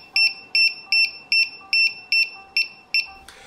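A cheap $2 battery low-voltage alarm on a homemade DIY drone beeps loudly and shrilly, eight evenly spaced pulses about every half second, each with a bright piercing tone, alone without talk.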